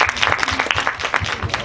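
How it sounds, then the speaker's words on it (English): A short burst of crowd applause, dense irregular clapping with some voices mixed in, fairly close and steady throughout. "Let's give her another round of applause."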